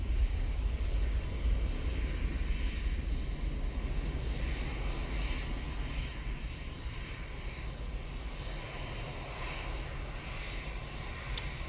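An EasyJet airliner at Manchester Airport produces a continuous deep engine roar with strong low rumble, loud and steady, easing slightly toward the end.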